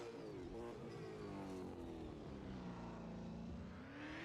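A V8 Supercar in the Assetto Corsa racing game pulls into the pits at Winton. Its engine drones steadily and fairly loud, with the pitch slowly falling and then rising again. There are no voices.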